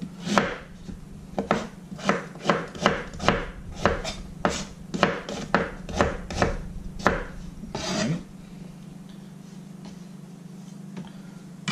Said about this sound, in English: we're just going to slice it. Nothing special, just little bite-sized pieces to add to the flavor.